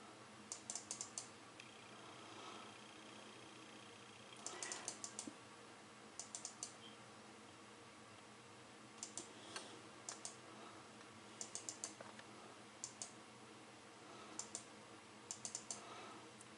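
Sharp computer clicks come in short clustered bursts, several quick taps in a row separated by quiet pauses, faint and close in a hushed room.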